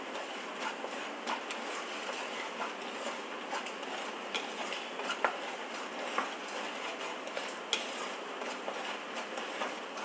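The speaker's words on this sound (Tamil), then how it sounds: "இதை வறுத்துக்கிறேன்." Wheat rava being dry-roasted in a pan, with faint, steady scraping and light ticking clicks from stirring, quiet and continuous throughout with no talk.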